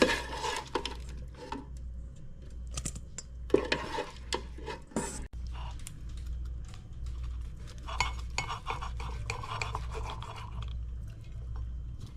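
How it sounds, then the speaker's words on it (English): Mashed potatoes scooped from a pot with a spoon, giving a run of soft scraping, tapping and wet squelching strokes against the metal, close by, over a steady low background hum. "we'll scoop the potatoes out here"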